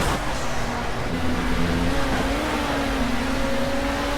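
Ford race car engine droning steadily in a Project Cars racing game, a continuous loud hum with a slowly rising pitch as it holds speed.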